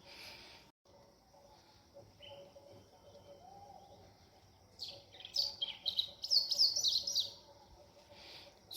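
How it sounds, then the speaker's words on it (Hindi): Morning birdsong outdoors in a quiet setting, faint distant chirps at first, then a brighter burst of close, high tweets in the second half. "सुबह सुबह चिड़ियों की आवाज़ कितनी अच्छी लग रही है, बिल्कुल शांति है और आवाज़ आ रही है"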